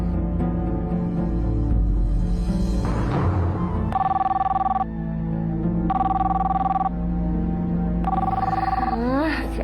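A telephone rings at night in a drama scene. Three steady electronic ring bursts come at regular intervals, and a voice talks over and between them.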